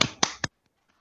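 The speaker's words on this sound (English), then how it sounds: "That is me clapping for you." Three sharp, evenly spaced hand claps come through a video call, loud and close, followed by near silence.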